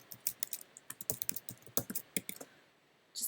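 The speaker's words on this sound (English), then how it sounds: "Just doing a little typing here." Quick, uneven clicks of typing on a computer keyboard, close by, in short bursts with brief pauses.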